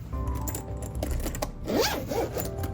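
Zipper on a Switch 2 carrying case being pulled open or shut in a few quick close-up runs, a raspy ratcheting zip with short pauses between strokes and no talk.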